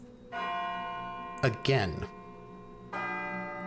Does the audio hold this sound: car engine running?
no